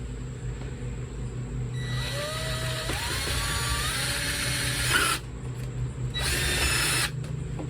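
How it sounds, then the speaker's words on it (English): A power drill whirs loudly through several seconds of cutting into PVC, its pitch rising as it spins up, then stops briefly and runs again. "now I got to put the bigger bit in and drill one of those out"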